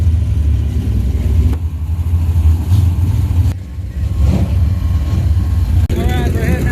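Pure Pony race cars at Fort Payne Motor Speedway rev loudly and close by. The engine roar rises and falls in surges and cuts off briefly at a couple of points.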